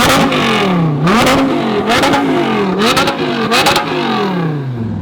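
A Lamborghini Revuelto engine revs hard while accelerating, climbing through several sharp rising sweeps with brief gear-change breaks, loud and close throughout with no talk.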